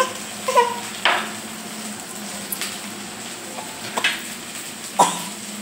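Onion and garlic fry in a pan for a rohu fish dish, a faint steady sizzle broken by several sharp clinks and scrapes of stirring, with no voices.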